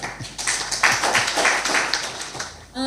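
A workshop audience claps in a scattered, uneven patter that swells and then fades, with a few louder individual claps near the listener.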